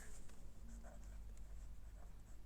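Pen or marker writing out a physics equation on a surface, a steady faint scratching and tapping of strokes with no talk.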